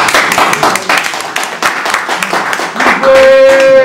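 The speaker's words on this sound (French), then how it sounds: "Est-ce qu'on peut applaudir, s'il vous plaît?" Scattered audience clapping at a Paris press conference announcing a Zenith concert, with mixed voices and chatter over it, ending in a sustained tonal hum or feedback.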